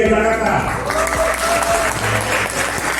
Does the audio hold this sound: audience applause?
yes